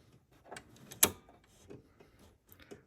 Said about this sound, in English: you can see as I turn the hand crank in the back